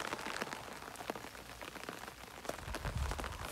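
Steady rain falling over wide open countryside fields on a walking route, a soft even hiss of drops with scattered patters, fairly faint and continuous, no voices.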